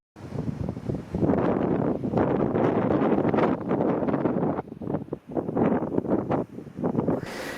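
Wind gusting across a Scottish clifftop near a lighthouse, buffeting the microphone in loud, rough roaring surges that swell and briefly drop away, with no voices.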